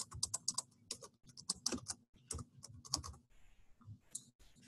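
Typing on a computer keyboard into a fixed text field in Polyworks reporting software: quick bursts of close, crisp key clicks broken by short pauses, with no talking.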